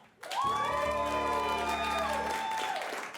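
An improv comedy audience bursts into clapping and cheering with whoops, voting for a rom-com scene; a loud, full burst of applause and shouts lasting a few seconds, then tapering off.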